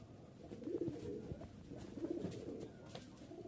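A pair of biscuit-coloured Pakistani Teddy pigeons, cock and hen with large feathers, coo softly at close range in repeated low phrases, with no talk.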